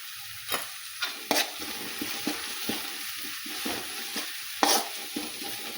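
Cowpea curry with turmeric and paste cooks in a pan, with a steady close sizzle under repeated rhythmic spoon scrapes and knocks against the metal.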